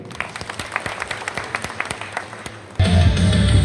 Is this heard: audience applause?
yes